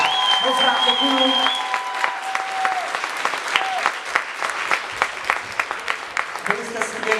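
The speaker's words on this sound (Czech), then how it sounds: "Tak velmi potlesky ještě jednou." Sustained audience applause after a Czech stage show, steady clapping throughout with a voice speaking over it and a held musical tone at the start.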